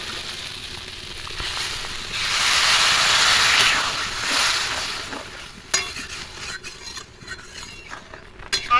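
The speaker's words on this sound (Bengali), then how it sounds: "এবার দিয়ে দেবো জল।" Water poured into a hot pan of bamboo shoot and prawn curry hisses loudly, swelling over a few seconds and then fading, followed by scattered scraping clicks of stirring.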